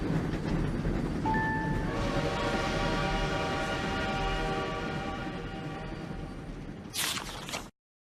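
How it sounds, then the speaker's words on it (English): A video game train rolls into a station with a steady rumble and long horn-like tones, slowing down before a bright hiss of releasing air near the end. "From the top of a tall tower, Princess Celestia watches the train arrive at the station."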